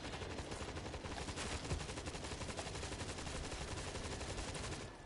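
An automatic turret in the World War Z video game fires continuously, with dense rapid gunfire rattling at an even, loud level throughout and no voices over it.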